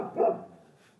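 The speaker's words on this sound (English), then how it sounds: "Dog barking in the background. Neighbor's dog." A neighbor's dog barks once in a backyard, a single near-distance bark that quickly fades into quiet, with no talking.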